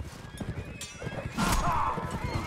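Cavalry horses in the Mount & Blade: With Fire and Sword game neigh and whinny over steady galloping hoofbeats, with battle noise swelling louder toward the end.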